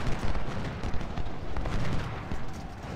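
Massed Civil War musket volleys in Ultimate General Civil War at the Battle of Shiloh, a dense continuous crackle of gunfire and booming shots rolling together at close range without pause.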